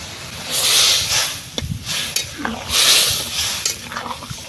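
Fish curry boils in a pan after fried pond fish go into a ground mustard, cumin and coriander paste with turmeric. Steady bubbling hiss swells and fades in waves, with a few soft pan knocks.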